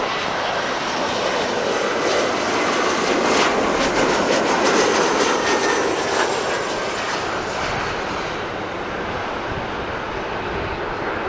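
Airliner at Los Angeles International Airport on runway 24, jet engines giving a loud, steady, broadband roar that swells slightly and then holds for the whole stretch, with no voices.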